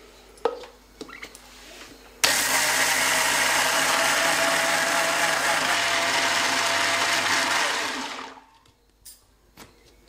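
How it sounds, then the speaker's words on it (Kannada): A mixer grinder grinds soaked rice with a little water into smooth batter, a loud steady whir that starts abruptly after a few faint knocks, runs for about six seconds, then winds down and stops. "ಫುಲ್ ನುಣ್ಣಗೆ ರುಬ್ಕೋಬೇಕು ರೀ ಇದು"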